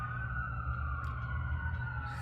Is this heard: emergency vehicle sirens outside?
yes